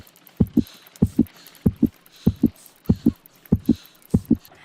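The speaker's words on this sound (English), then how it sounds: "I need to concentrate and count the heartbeats" Heartbeat in the Sherlock Holmes Crimes and Punishments video game: a slow, loud, regular lub-dub thumping, about seven paired beats at an even pace, alone with no talk.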